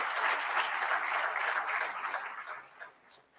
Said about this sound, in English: I really want all of you to give him a round of applause